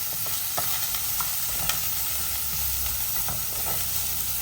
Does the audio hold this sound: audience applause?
no